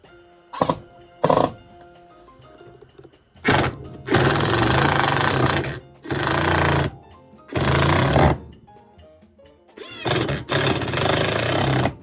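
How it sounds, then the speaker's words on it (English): A power driver drives screws into oak boards in a shop, several loud buzzing bursts of a few seconds each, separated by short pauses and light handling noises. "Oh, the joys of driving screws into oak"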